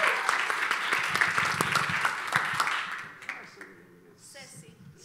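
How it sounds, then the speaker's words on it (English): A church congregation bursts into applause, loud and full for about three seconds before thinning into scattered claps and fading out. "Give them a round of applause."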